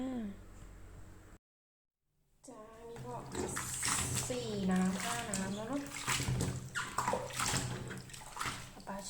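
Salted napa cabbage for kimchi is rinsed under running water, a steady close splashing and pouring that starts after a brief silence, with someone talking over it throughout.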